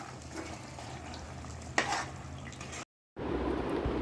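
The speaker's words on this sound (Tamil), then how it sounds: "நல்லா இப்படி பொறுமையாக கிளறிங்க" Tomato pickle cooks in oil while being stirred in a pan, with a steady close sizzle and scraping stir sounds, a sharp clink midway and a brief gap before the frying resumes.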